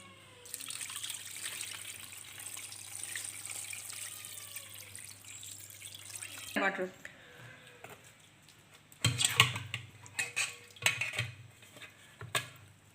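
Curdled milk being rinsed under running water for homemade rasgulla, a steady tap flow at first, then clattering pot and utensil knocks with splashing toward the end.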